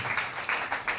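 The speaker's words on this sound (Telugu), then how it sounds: "చప్పట్లు కొట్టి ప్రభు నామాన్ని" A church congregation claps hands together during Sunday worship, a steady rhythmic burst of many palms repeating in close, regular pulses with no voices in between.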